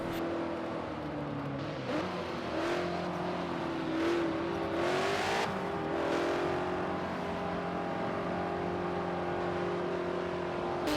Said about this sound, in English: And there's Steph, passing a ton of cars as she flies past pit road